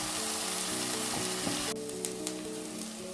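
Prawns sizzling steadily in a hot pan for a Kerala-style prawn roast, a dense continuous frying hiss that eases slightly partway through, with a few light utensil clinks near the end.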